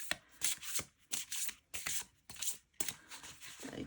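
Big, stiff cards are shuffled by hand in several quick, crisp riffling bursts separated by short pauses, close and fairly quiet with no speech.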